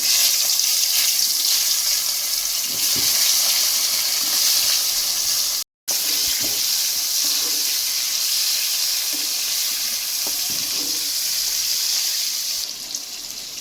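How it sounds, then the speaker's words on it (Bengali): Eggplant pieces fry in oil with a steady, loud, close sizzling hiss that continues without letup, apart from a brief cut to silence partway through. No voices are heard. "এখন আমি তেল ওই তেলের মধ্যে আমি বেগুনগুলো আমি একটু ভেজে রাখি"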